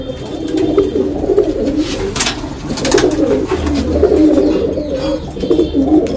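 Several female pigeons in a loft coo in overlapping, rolling low calls throughout, with clicks and rustling from the birds and surroundings, and no one speaking.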